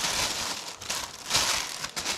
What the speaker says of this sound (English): you put the plastic bag over this